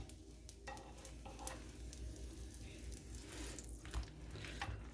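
Paneer and onion-cheese paratha cooking on a pan with oil spread on it, giving a low, steady sizzle with scattered crackles and soft scraping taps throughout.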